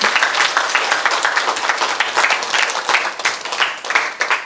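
A church lecture audience claps warmly for the pastor's wife, a close, sustained round of applause with a steady, slightly pulsing rhythm throughout.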